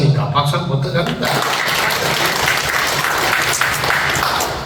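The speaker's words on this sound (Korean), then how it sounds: "이분 잘 살아왔으니까 박수 한번 부탁합니다." An audience at a Sunday lecture claps steadily and loudly, a dense round of applause that starts after a brief moment of talk and holds evenly to the end.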